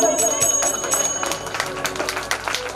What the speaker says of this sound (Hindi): बड़ी जोर से घंटी बजी।